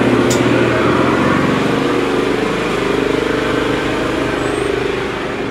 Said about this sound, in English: I'm going to turn the air compressor on.